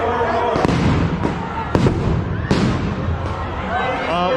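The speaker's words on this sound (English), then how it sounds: "I think they were flashbangs." Flashbang grenades go off during a street clearing in Seattle, with several sharp, loud bangs spread across the moment and echoing, while someone talks nearby and crowd noise fills the background.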